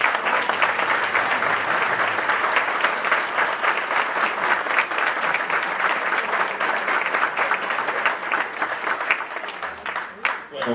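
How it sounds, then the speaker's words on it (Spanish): A crowd applauds performers at a national living-statues contest show and awards ceremony, with dense, sustained clapping throughout that thins near the end, and faint voices beneath it. "un fuerte aplauso para ellos"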